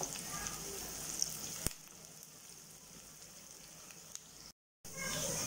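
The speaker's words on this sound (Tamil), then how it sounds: "ஒரு கொத்து கருவேப்பிலை உருவி அதில் போட்டுக்கலாம் நல்லா இனி வதங்கி வரட்டும்" Oil sizzling and crackling steadily in a pan as curry leaves, green chillies and onions fry for vada curry, with a brief stir clatter and a short silent gap near the end.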